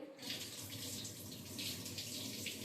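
Tap water runs steadily into a kitchen sink while cut carrots are rinsed, a continuous close splashing rush with small fluctuations.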